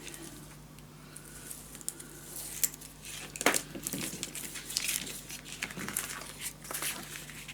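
Paper being folded by hand for a scrapbook mini album storage tower, giving soft, close crinkling and rustling in irregular bursts, louder toward the middle, with no talking.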